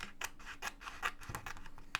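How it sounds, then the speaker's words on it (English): Several crisp scissor snips cut through a paper journal page, irregular closed cuts with small rustling scrapes between them, close and fairly quiet with no talk. "Now I will cut this part of the page off."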